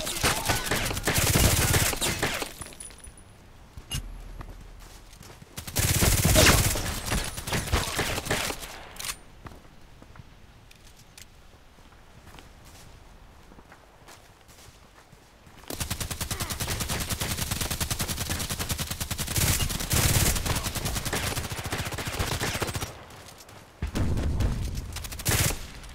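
Machine gun fire from a first-person shooter video game comes in long, loud sustained bursts separated by quieter stretches of ambient game noise and faint footsteps.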